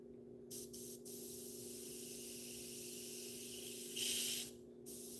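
An airbrush sprays paint in a steady, continuous hiss that runs for several seconds, with a brief louder burst near the end and a low hum underneath.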